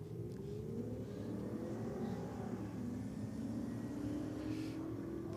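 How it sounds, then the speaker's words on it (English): Holden and Ford cars do burnouts side by side at a drag race, a steady, fairly distant engine roar with rising revs and tyre hiss holding throughout, no one speaking. "Pair of strong burnouts from both competitors."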